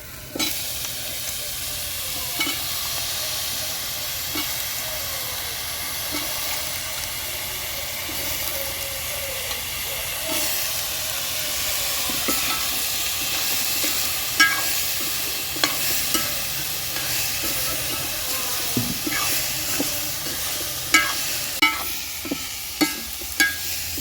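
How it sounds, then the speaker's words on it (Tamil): Drumsticks and curry leaves sauté in a hot pan, giving a steady, loud sizzle throughout, with occasional scraping stirs and clicks of a spoon against the pan. "முருங்கைக்காய் கட் பண்ணி வச்சுருக்கேன், முருங்கைக்காய் போட்டுக்கலாம்"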